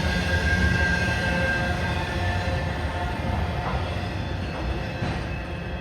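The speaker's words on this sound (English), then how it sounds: "we got a loaded taconite train coming" A heavy freight train loaded with taconite rumbles steadily past at close range, its wheels grinding and clattering continuously on the rails.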